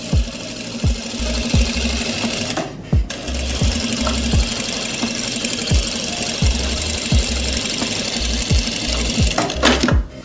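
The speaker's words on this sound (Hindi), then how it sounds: "तो अब हम इसकी फिर डबल सिलाई कर देंगे।" A sewing machine runs steadily while double-stitching a kurti, its needle knocking in a fast even rhythm, up close, broken by a few short pauses and restarts.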